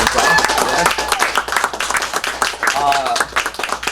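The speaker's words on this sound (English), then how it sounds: "If you give a round of applause to start." An audience at a small indie comics convention claps to welcome a veteran comics artist, busy close applause mixed with overlapping voices and chatter throughout.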